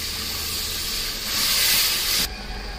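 Ground-spice water is poured into a hot pan of tomatoes, giving a loud steady sizzle and hiss that swells partway through, then drops sharply near the end.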